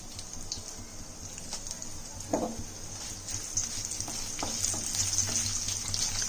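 Small onions dropped into hot oil in a pan on high heat, a close steady sizzle with light clatter and a brief splashy burst partway through, no voices.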